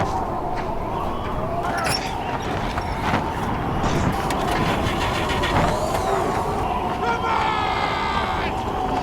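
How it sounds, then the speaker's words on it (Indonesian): An old, run-down car being cranked during a storm as its engine fails to start, a continuous churning rumble with repeated effortful turnovers, fairly loud and close. "Namun karena mobil butut tak mau menyala, Will yang kedinginan bergegas kembali"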